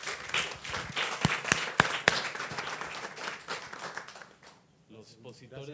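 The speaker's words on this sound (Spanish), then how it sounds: "vamos a darles un aplauso para que se animen" An audience at a conference on peyote conservation claps in a brief burst of dense applause with a few sharp, loud claps close by, fading out before a voice begins speaking.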